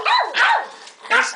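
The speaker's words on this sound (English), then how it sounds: "Kipper, what are you barking at?" A dog barks in three loud, close yelps spread across about a second and a half, with short gaps between them and no talk over them.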